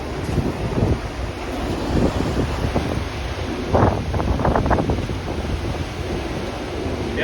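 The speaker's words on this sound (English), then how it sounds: "These trees usually get 20-30 mile per hour winds almost daily, and these trees are struggling." Strong wind gusts from a convective squall line batter the microphone in Massachusetts, a continuous roaring rush with buffeting surges and rustling bursts, loud and close throughout.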